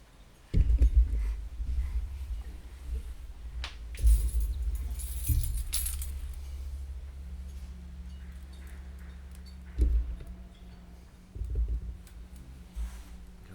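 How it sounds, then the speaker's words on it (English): Keys jangle and clink in several separate bursts spread over about fourteen seconds, close and fairly loud, with quieter rattling and light taps between them and no talk. "Can we get those keys back?"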